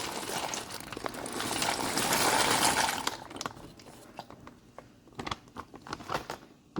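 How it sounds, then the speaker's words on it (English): Penne pasta poured into a pot of boiling water, a loud rattling pour for about three seconds, then quieter bubbling and scattered clicks as the pieces settle. "So I'm gonna add the pasta to the water."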